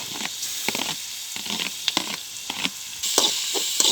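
Onion and tomato frying in a pan over a wood-fired stove, with a bright crackling sizzle and repeated spoon scrapes and stirs, close and loud, with no voices.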